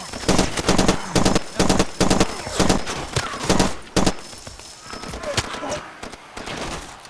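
Rapid bursts of gunfire from the video game Far Cry 2, loud and close, coming in repeated rattling volleys with brief pauses, quieter shots trailing off toward the end.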